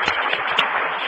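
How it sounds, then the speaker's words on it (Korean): A church congregation claps together, a dense burst of applause filling the room steadily for about a second. "우리 박수 한번 힘차게 한번 쳐주시죠"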